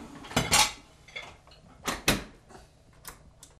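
Dishes and cutlery clatter as a dishwasher is loaded, in a few close, sharp clusters of clinking spaced about a second apart.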